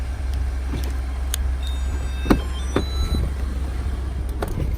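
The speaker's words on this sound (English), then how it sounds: "Truck remote started." A Ford F-150 pickup's engine idles after a remote start, a low, steady rumble close by, broken by a few sharp clicks and knocks.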